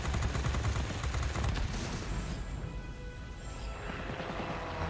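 Aircraft machine guns firing from a Spitfire Mk. Ia in World of Warplanes, a rapid rattling burst for about two seconds that fades into steady engine and wind drone.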